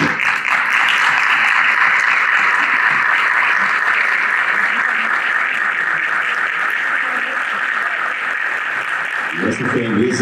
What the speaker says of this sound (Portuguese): Nós é que vamos bater para vocês.